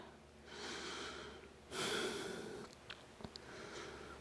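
Slow, audible breathing during a yoga flow: long airy inhales and exhales, with one strong exhale near the middle and a few faint clicks afterward, close and fairly quiet with no talking.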